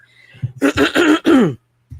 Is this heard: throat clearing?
yes